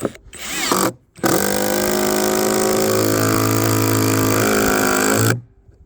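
Impact driver driving self-tapping screws into a board: a short burst, a pause, then a long loud continuous whirring hammer that stops abruptly, close up.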